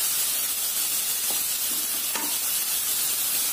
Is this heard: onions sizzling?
yes